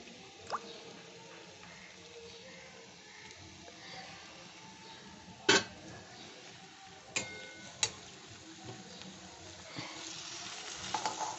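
Beaten egg poured into a pan beside roasted eggplant mash, frying with a soft, low sizzle broken by a few sharp utensil clicks and taps near the end.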